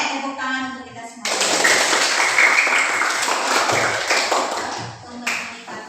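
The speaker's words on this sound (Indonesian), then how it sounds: "Oke, tepuk tangan untuk kita semua." Classroom children clapping hands together in a steady burst of applause, loud and close, mixed with voices and chatter throughout.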